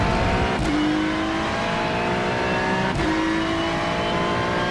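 McLaren race car in a racing video game, its engine droning loud and steady with rising revs, two sharp shifts or drops in pitch breaking the whine, no talking over it.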